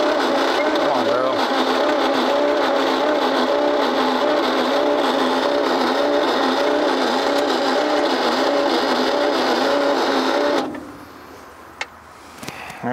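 A 1957 Chevy Viking truck, abandoned for fifty years and filled with marble mystery oil, has its engine cranking over steadily with a whirring starter drone that cuts off abruptly near the end, with voices talking underneath.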